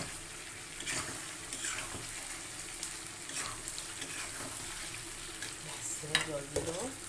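Water goes into a pan of well-fried meat curry with potatoes. The soft, continuous sizzle and stirring are fairly quiet, with a few louder splashy bursts near the end.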